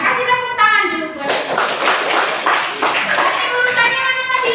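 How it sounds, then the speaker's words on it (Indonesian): Students in a classroom clap for a group: a brief voice opens, then dense, steady applause from the whole class fills the rest, with faint young voices mixed in. "Ya, kasih tepuk tangan dulu buat."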